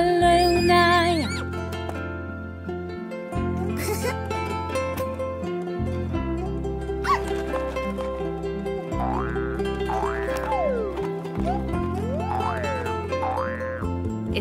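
Cartoonish horse neighing set within a children's song, several whinnies rising and falling over a steady repeating musical backing.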